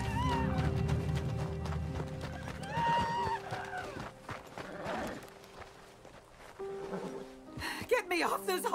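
A horse whinnies over busy game music and effects, with hoofbeats and scattered movement sounds mixed in.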